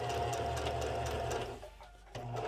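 A Singer M3220 sewing machine stitches fabric with a fast, steady mechanical whir, close and continuous, briefly easing off and then resuming at full speed.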